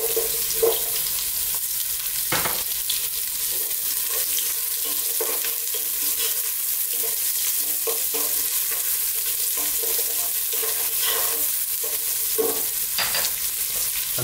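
Onions going into hot oil with browned garlic and dried chilli for a vegan Chinese vegetable noodle dish: a continuous loud sizzle with scraping, stirring knocks from a utensil in the pan throughout.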